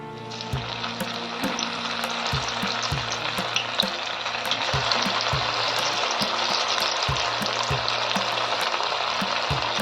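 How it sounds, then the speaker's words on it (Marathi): Rice cutlets fry in hot oil with a dense, close, steady sizzle. A regular rhythmic clicking or ticking runs through it, and there is no speech. "बघा तेल आपलं छान तापलंय टाकूया आपले कटलेट"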